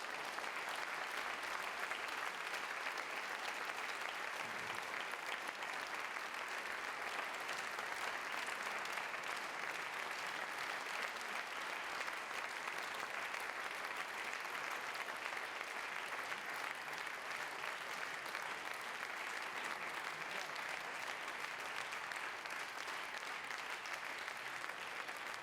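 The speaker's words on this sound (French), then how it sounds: "je voudrais un tonnerre d'applaudissements" Thunderous applause fills a hall at a Brussels political party congress on joining the government. Steady, dense clapping from a large crowd continues without a break for about twenty-five seconds, with no distinct speech over it.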